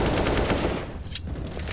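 Rapid automatic rifle fire sprays in a tight burst during a professional Counter-Strike match on Vertigo, loud and close for under a second, then cuts off into a short echoing tail.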